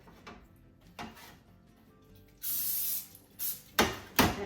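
Cooking spray bursts into small oven-safe baking pans: one long hissing spray, then several shorter puffs, close and fairly quiet, with faint clicks and handling noises between them and no talk.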